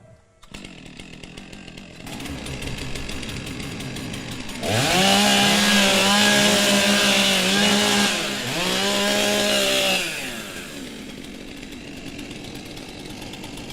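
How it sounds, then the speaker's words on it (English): Several chainsaws revving loudly at a STIHL TimberSports championship in New Zealand, rising from a steady background idle into a loud burst of repeated throttle revs for about five seconds, then settling back to idling. "Warm up your saws."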